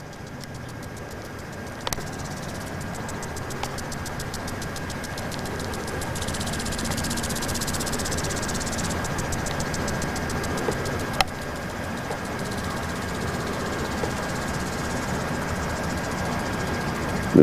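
A Bedini rotary magnetic motor unit spins with a steady mechanical hum and whir, accompanied by a faint high-pitched whine and a couple of isolated clicks.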